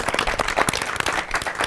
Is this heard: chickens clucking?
no